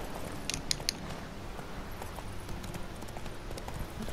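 Horse hooves clip-clop across ground in The Witcher 3 video game, a quick run of sharp hoof strikes near the start followed by a steady rhythmic trot under background game ambience.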